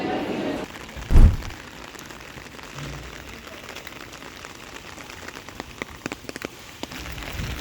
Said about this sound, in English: It is tipping it down, but I'm not complaining because I like the rain